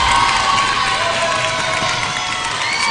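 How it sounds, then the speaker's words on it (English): Crowd cheering at a Class 1A high school volleyball match between Loretto and Madison Academic Magnet, a loud, sustained roar of shouting spectators filling the whole stretch. "And the crowd goes wild."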